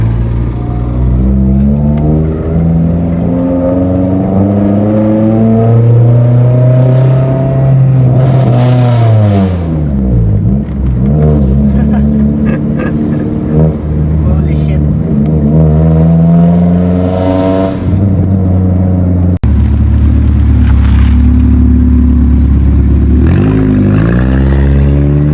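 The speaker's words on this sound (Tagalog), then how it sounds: "I could hear my exhaust system well." A car engine revs hard again and again in an echoing space, its exhaust booming and the pitch rising and falling in long sweeps. The sound is very loud and close, with no talk over it.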